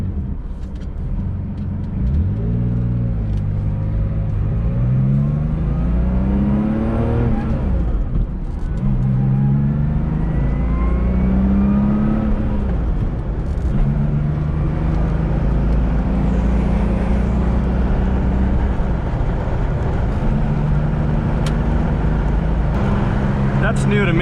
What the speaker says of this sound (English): Quite a bit of wind noise with the Targa coming through here